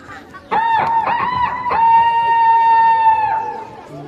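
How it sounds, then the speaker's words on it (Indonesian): A rooster crows at dawn, one long drawn-out call rising and holding steadily for a couple of seconds, fairly loud and clear, following a short burst of clucking and crowd chatter. "Saat pagi hari Khadijah dibangunkan oleh seekor ayam yang berkokok dari kejauhan."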